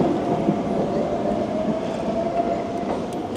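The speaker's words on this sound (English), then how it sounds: "Have to be careful with all the different trams and everything." A tram rumbles steadily past on a street in Rome, a close continuous low roar with faint metallic squeals from the rails, heard alone with no talking.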